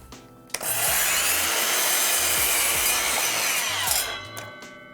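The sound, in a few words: miter saw cutting wood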